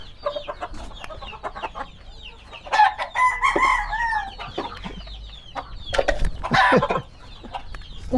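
A gamefowl rooster on a gamefarm crows loudly and close, twice, between bursts of clucking and scattered scratching and pecking sounds.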